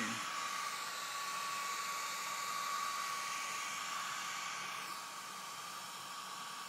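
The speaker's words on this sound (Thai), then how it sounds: "กำลังเป่าผมให้แม่" A toddler blows a hair dryer on a mother's hair, a loud continuous airy roar held close, easing slightly in level toward the end, with no talk.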